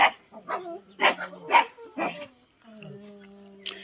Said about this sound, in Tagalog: pasensya nyo na guys yung aso namin,